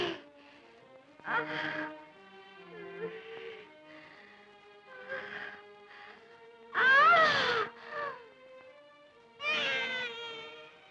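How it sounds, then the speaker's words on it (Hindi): An infant's wailing cry rises in several loud, pitch-bending bursts separated by short pauses, in a scene from a 1965 Hindi mythological film. "बच्चे के रोने की आवाज"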